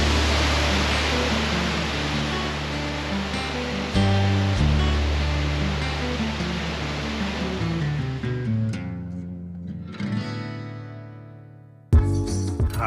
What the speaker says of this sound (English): Now that is a waterfall.